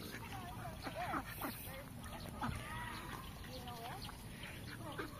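Ducks quack in short, repeated calls at a Batangas resort, with birds and people chattering nearby over a steady background hum.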